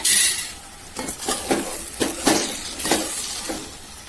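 Tomato masala with drumsticks sizzles and scrapes in a pan as a spoon stirs it, with soft rhythmic stirring strokes about every half second and a steady frying hiss underneath.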